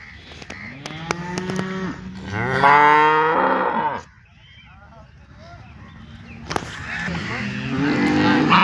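Cows moo loudly and repeatedly nearby at the Loni cattle market, long drawn-out bellows, with a busy crowd murmur and people talking around them.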